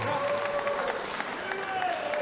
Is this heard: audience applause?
yes